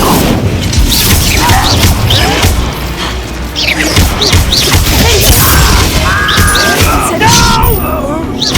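Hogwarts Legacy battle on Xbox Series S with Incendio fire spells being cast, a busy stream of booms, crashes and thuds layered with chirping spell effects and voices throughout.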